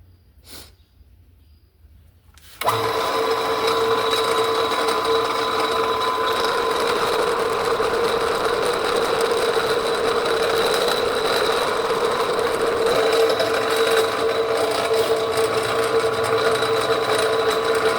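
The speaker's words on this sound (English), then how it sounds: "That is the most perfect lead hole I've ever drilled in my life." A small power drill boring a lead hole into a crankbait lure held in a vise starts abruptly after a short quiet moment and runs as a steady, loud, high-pitched whine without a break.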